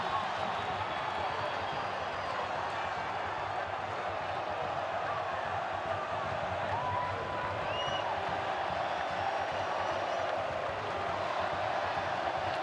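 A stadium crowd at a Costa Rica versus Panama football match in the Concacaf Nations League keeps up a steady, distant roar, with no single burst standing out.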